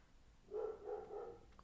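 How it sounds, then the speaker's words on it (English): A dog lets out one drawn-out, faint bark or yowl indoors, lasting about a second against a quiet room. "You hear this, dog?"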